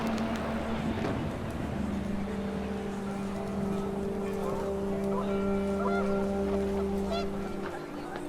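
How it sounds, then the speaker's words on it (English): Geese honking in the video game What Remains of Edith Finch, a flurry of calls over steady wind and low droning tones, the whole scene dense and continuous without pauses. "panicked geese appeared and quickly went"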